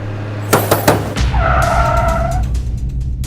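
A car skids to a halt with a short, loud, tonal tire squeal after a few sharp knocks, followed by an idling engine rumble.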